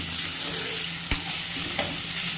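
Diced potatoes and chopped green chili stirred in a pan over steady frying sizzle, with a couple of brief spatula scrapes against the metal.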